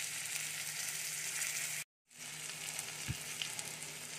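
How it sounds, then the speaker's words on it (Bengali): Spices (green chilli, cumin powder, turmeric) frying in oil for a potato paratha filling make a steady broadband sizzle. A short silent gap breaks the sound midway, and a faint low clunk comes near the end. No voices. "এবার মশলাটা একটু ভেজে নেব।"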